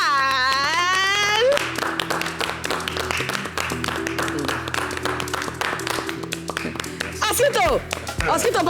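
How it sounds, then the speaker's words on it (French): Steady applause from a studio audience on an Abidjan television show rattles on continuously for several seconds, dense and fairly close, starting under an excited voice and carrying on beneath background sound. "Applaudissements pour Esaïe, l'original."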